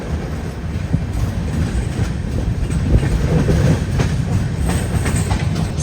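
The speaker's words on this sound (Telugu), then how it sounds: "అటు సైడ్ పక్క ట్రాక్ లో ట్రైన్ వస్తుంది" Madgaon Rajdhani Express rolling past on the adjacent track, a steady close rumble of wagons with clattering wheels that holds at an even, loud level throughout.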